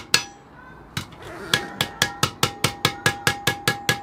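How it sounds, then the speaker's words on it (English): A hammer taps on a ribbon of metal in tinkering work, starting with a few scattered strikes and then settling into a quick, even run of sharp, ringing taps close by. "Use this part of the hammer now. To tap it on."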